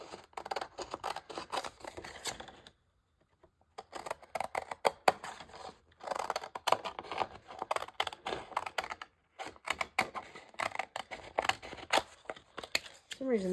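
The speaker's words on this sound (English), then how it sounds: "for some reason these scissors feel really stiff to me this morning." Stiff scissors snipping through folded paper at close range, a rapid series of crisp cuts and rustles in bursts with short silent pauses between, under occasional quiet talk.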